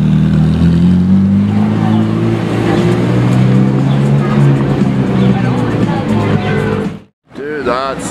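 Loud, close exhaust of a straight-piped Gintani Lamborghini SVJ, a deep sustained rev that rises and holds before cutting off abruptly, then a brief burst returns, with voices talking over it.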